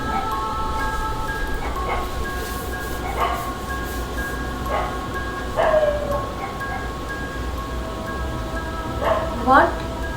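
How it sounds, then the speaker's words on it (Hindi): Dogs bark outside at night, distant and intermittent, a few scattered yelps and a longer howling whine, faint beneath a steady low hum. "और देखो बाहर तो कुत्ते भी भौंक रही है अभी।"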